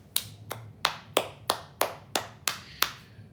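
Nine sharp, evenly spaced hand claps ring out close by in a quiet room during a ghost hunt, each with a short echoing decay, steady and unhurried, with no talk over them.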